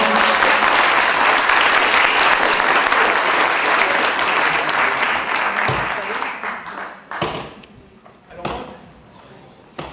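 Conference audience applauding loudly and steadily, dense clapping filling the room for several seconds before thinning into scattered claps and fading out, with voices briefly heard near the end.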